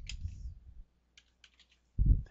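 Keys on a computer keyboard tapped to enter a company file name in accounting software: a short quick burst of clicks, a few scattered keystrokes after a pause, then a louder thump, heard close with no talking.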